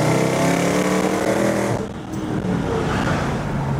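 A Mercedes E55 accelerates on a wet road, its engine a loud, steady, close roar with a harmonic drone that holds and then eases off, leaving a softer rumble and road noise.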